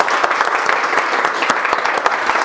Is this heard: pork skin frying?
no